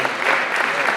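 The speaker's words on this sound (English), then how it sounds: "Let's give our state senator and our state rep another round of applause." Brief, steady round of applause from a room of guests at an open house and oath-of-office meeting, full and continuous with a faint murmur of voices beneath.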